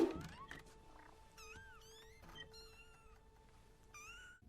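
Several cats meow in a Harry Potter film scene, a run of rising and falling mews spread across the clip over a faint steady hum, with a soft thump at the very start.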